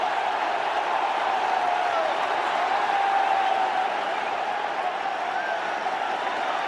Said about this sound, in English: The crowd here are on their feet